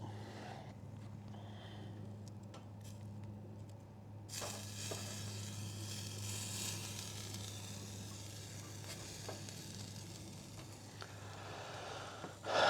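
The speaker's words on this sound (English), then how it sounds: "I can hear light sizzling coming out of this thing." Steady faint sizzling hiss of meat cooking on an electric camping grill, continuous throughout, with a low electrical hum beneath and a few soft clicks.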